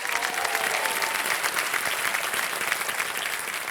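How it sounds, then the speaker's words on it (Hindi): A studio audience on KBC Season 14 applauds to welcome a contestant's wife, steady full clapping that continues at an even level for the whole stretch, with no voices on top. "तालियों के साथ इनका स्वागत किया जाए"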